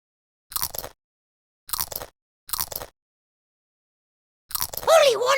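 Cartoon parrot crunching crackers in a Peppa Pig feeding game: three short, crisp crunching bites spaced apart, then a fourth crunch running into a squawky parrot-like voice, all close and loud with no talk.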